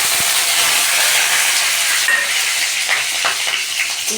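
Round slices of pointed gourd (potol) fry in a pan, giving a loud, dense, steady sizzle close by with a few clicks and scrapes toward the end.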